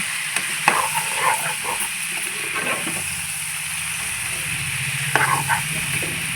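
Chicken for a gongura curry fries in a pan with a soft, continuous sizzle, while a spoon stirs and scrapes it in a few short bursts.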